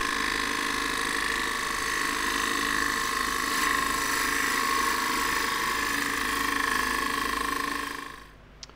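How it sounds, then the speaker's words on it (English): A wood lathe spins a green elm crossgrain tube while a turning tool rides its bevel against the wood, giving a steady, loud, whining drone with tonal hum for about eight seconds before it winds down and stops. No one speaks. "So pushing the tool onto the rest and just letting the bevel ride against the wood."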